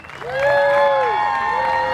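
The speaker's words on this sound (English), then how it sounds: "a huge round of applause to everyone who's here" Crowd at a Palestinian flag raising outside Clifton City Hall applauds, with a loud drawn-out cheering voice rising over the clapping as the noise builds and holds.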